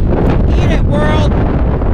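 Strong outdoor wind buffets the microphone in a loud, continuous rumbling roar, with brief gusty swells on top.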